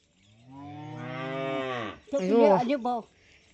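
A cow moos nearby, one long drawn-out low call followed by a shorter, wavering second call, loud and clear with no talking.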